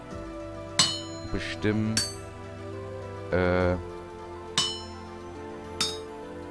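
A hammer strikes metal blocks on an anvil while smithing in the game Vintage Story, giving about five sharp metallic clinks spaced through the clip, with a brief scraping sound in between and someone talking.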